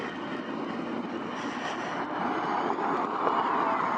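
A Harley-Davidson Road Glide motorcycle engine runs steadily with a broad, continuous drone that swells slightly louder toward the end, with no talk over it.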